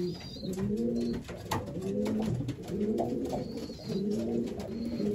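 A racing pigeon newly placed in a loft coos repeatedly nearby in steady, rolling phrases, with faint chirps from other birds and no talk.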